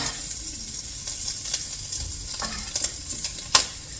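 Browned sausage scraped and moved from a pan into a bowl with the heat off, a steady soft sizzle under scattered utensil scrapes and light clinks.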